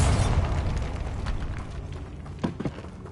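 A Bombarda spell explosion in a video game, a loud low rumbling boom at the start that fades over a couple of seconds, followed by a few sharper debris-like pops near the end.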